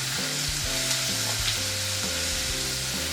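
Chopped ginger and onion fried and stirred in a pan for a yogurt curry, a constant dense sizzle with rhythmic scraping strokes of a large spoon, close and loud with no talking.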